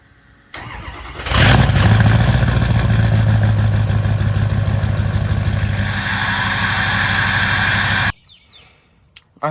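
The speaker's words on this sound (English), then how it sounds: "I will put a cold start clip up right now." A 6.0 Powerstroke diesel truck engine cold-starting: a starter whir, then the engine catches with a loud roar and settles into a steady clattering idle, running close and loud until it cuts off abruptly near the end.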